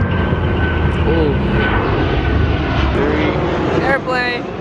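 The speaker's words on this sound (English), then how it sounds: "Airplane." A fixed-wing airplane drones overhead as a steady, broad engine roar under a near-constant wash of outdoor noise, with faint voices in the background.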